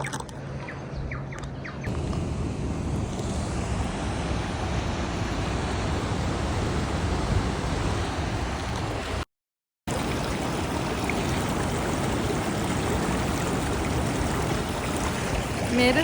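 Maruia Falls in New Zealand roars as a steady rushing wash of falling water, loud and continuous, with a brief dropout partway through and faint wind at the start.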